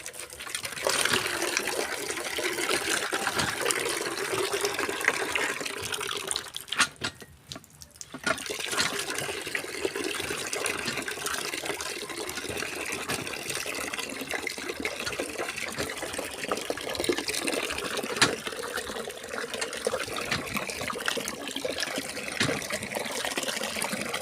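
Water drawn from a hand pump well in Negros, Philippines: a continuous splashing, gushing stream pouring into a container, close and steady, with a brief dip partway through before the flow resumes.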